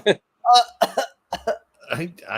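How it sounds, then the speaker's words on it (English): A person coughs several times in short, close bursts, with brief vocal sounds in between. "Oh, cough on that one. Cough a couple times at least."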